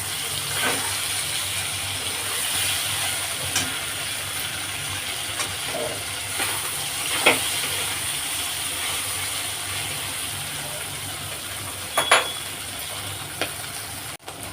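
Rohu fish pieces with salt and turmeric are stirred slowly in hot oil in a pan, a steady sizzling hiss broken by occasional sharp scraping clicks, with no talk.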